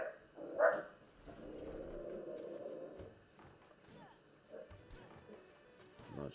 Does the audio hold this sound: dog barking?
yes